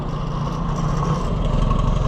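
An Oliver 550 gas tractor engine idles steadily and close by, a continuous low, even rumble with no breaks and no voices over it.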